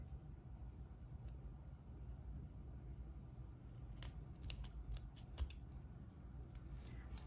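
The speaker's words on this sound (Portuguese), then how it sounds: "Chegando aqui no 10, eu corto com a tesoura." Scissors snip through fabric threads at a craft table while making a table necklace, giving several quick faint cuts over a low steady background hum with no talk.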